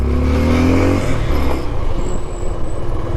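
A motorbike on a Ladakh mountain road trip starting to climb uphill, its loud engine rumbling close and then easing off into road noise after about one and a half seconds, with no talk.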